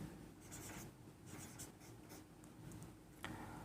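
A pen or chalk scratches across a board during a Class 10 trigonometry lesson, making quiet, steady strokes with short pauses and one sharper tap near the end.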